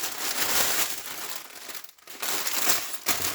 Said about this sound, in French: on va déballer ça avec vous